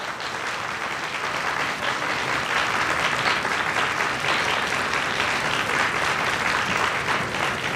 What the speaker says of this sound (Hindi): जोरदार तालियां इन दोनों आचार्य वर्ग के लिए हम बजाएं।